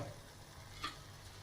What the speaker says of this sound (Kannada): ಸೊ ಟೊಮೆಟೊ ಹಸಿ ವಾಸನೆ ಹೋಗುವವರೆಗೂ ಅದನ್ನು ಫ್ರೈ ಮಾಡೋಣ